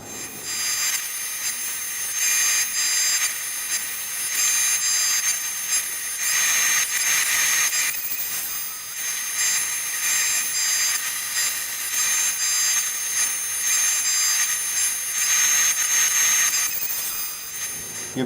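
A CNC router cutting a wood bass guitar neck blank gives a steady, loud, high-pitched whine and grinding rasp that runs the whole time, with small surges in intensity and no talking.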